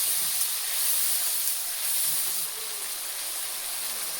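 Onions frying in hot mustard oil in a home Bengali kitchen as spices go into the pan, giving a steady, even hiss of sizzling oil at moderate level with no pauses and no talking.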